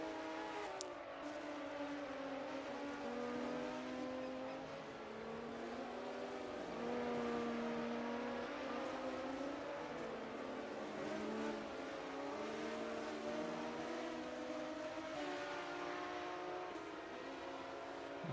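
A Sauber Racing Switzerland Procar race car's engine drones steadily at a distance, its pitch rising and falling through gear changes and turns over a long stretch, with no voices.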